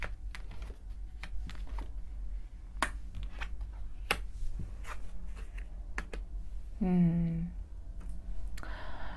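Tarot cards handled on a table during a reading, with sparse close clicks and light taps over a steady low room hum, a short tonal voice sound near the end.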